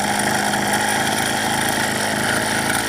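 A small mini engine fitted with a modified centrifugal clutch runs at steady revs, a close, loud buzzing drone that holds constant throughout.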